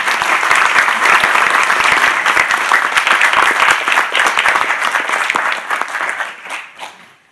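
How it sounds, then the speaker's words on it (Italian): An audience at a conference in Tortona gives a loud welcoming applause for journalist Giulietto Chiesa, dense clapping that holds steady for several seconds and then thins out and fades away. "applauso."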